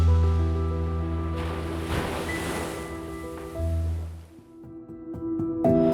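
Ocean waves wash steadily against the shore by the sea in Mumbai, a broad rushing surf that swells and recedes beneath a sustained musical backing.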